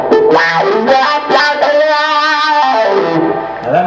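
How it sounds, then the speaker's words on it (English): Distorted electric guitar run through an effects unit, its tone swept by a filter as if turning an amp's tone knobs, loud sustained chords shifting in color across several seconds. "I'm filtering that distortion sound as if I was changing the tone knobs on my amp"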